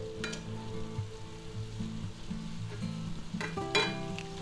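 Sausage, hot peppers and onions sizzle and fry in a pan while being stirred, a steady close crackle with a couple of scraping clatters near the end, no voices.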